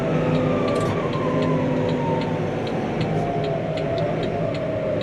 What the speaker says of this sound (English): Just blipping the old throttle as it changes down, just so it's absolutely smooth.